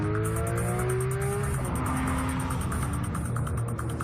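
A Porsche 911 engine screams up toward 9,000 RPM, a loud, sustained high-pitched wail whose pitch climbs and then shifts as it revs hard, with steady road and tire noise beneath.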